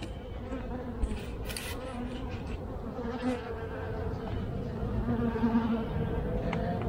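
Honeybees in a hive produce a dense, continuous buzzing drone, close and steady, with occasional louder passes of bees flying near.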